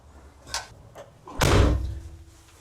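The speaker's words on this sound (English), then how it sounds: "let's see how dark it actually gets when I close the doors." Van doors swing shut, with a couple of light knocks and handling noises leading up to one loud, close thud as a door closes.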